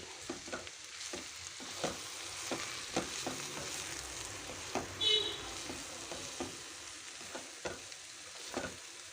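Chapati noodles being stirred into a sizzling pan mixture, with a steady fry hiss and repeated scraping and clinking strokes at an irregular rhythm, close and moderately quiet, no talk.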